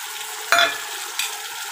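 Chopped tomato sizzles in a pan of hot oil while a spoon scrapes and stirs it, with two close sharp clatters over a soft steady fry and no voices.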